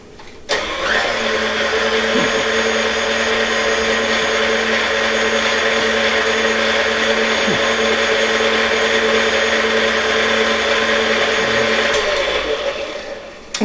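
An electric stand mixer runs for houska dough, working flour and yeast together with a steady loud motor hum and whir that starts abruptly and runs continuously before cutting off.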